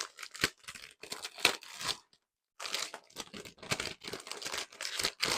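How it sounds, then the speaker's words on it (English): A Cloth & Paper stationery subscription box package for August 2024 is torn open by hand, giving close, busy bursts of ripping and crinkling paper and plastic with a short pause midway. "let's first open up our kind of package that has our what's inside card as well"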